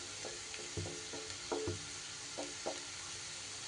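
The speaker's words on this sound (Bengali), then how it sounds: "এবার আলু পেঁয়াজটা কিন্তু সুন্দর করে চারিদিকে এইভাবে ছড়িয়ে দিতে হবে" Fried potato and onion pushed around a hot pan for a fish-roe dish, a soft continuous sizzle with several scraping stirs of a spatula, close and alone.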